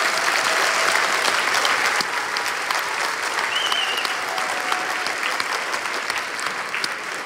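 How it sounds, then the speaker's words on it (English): A crowd at an elementary school fifth grade promotion ceremony claps loudly and steadily, a dense, sustained burst of applause that holds its level throughout with no pause. "Can I give her a round of applause"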